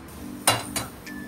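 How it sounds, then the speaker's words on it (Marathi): A kadhai set down on top of a pot, giving two distinct metallic clanks close together followed by a lighter ring, with no talk. "आणि आता याच्यावरती कढई ठेवते."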